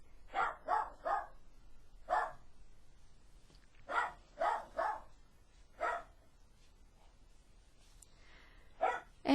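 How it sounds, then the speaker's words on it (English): A dog barks repeatedly indoors, in clusters of two or three sharp, close barks separated by pauses, loud and clear over a quiet room. "My dog has gotten up and decided to bark again."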